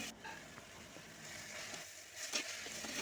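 Onions and shallots sauté in hot oil with salt, giving a steady, close sizzle throughout with light stirring scrapes and a slightly busier patch near the end.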